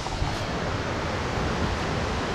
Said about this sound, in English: It's called Mountain Waterfall in Koh Samui.